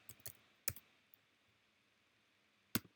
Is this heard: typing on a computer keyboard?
yes